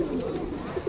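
Black pigeons coo softly nearby, a brief low throaty murmur with faint background noise.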